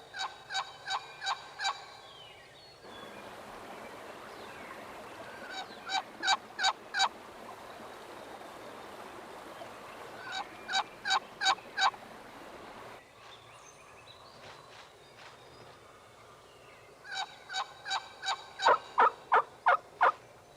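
Wild turkey hen calls meant to lure a tom come in four sharp, evenly spaced yelp series separated by pauses, clear and fairly close over a steady background of flowing water.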